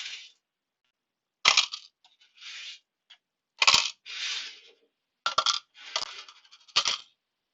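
Coins are dropped into the cups of a cash register drawer in a series of bright metallic clinks and jingling clatters, loud and close, separated by short silences.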